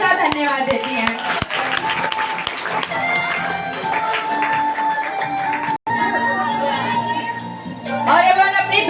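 A church congregation claps loudly together in thanks during a healing service, a dense burst of applause with voices and shouts mixed in, swelling again near the end.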